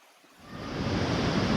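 Gürleyik waterfall pours as a continuous, dense roar of rushing water that swells up from near silence and holds steady and loud, with no voices over it.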